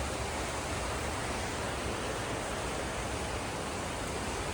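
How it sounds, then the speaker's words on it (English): A dense, unbroken roar of heavy rain pours down during a severe storm outdoors, loud and steady throughout with no pauses or voices. "Oh, it's pouring so hard."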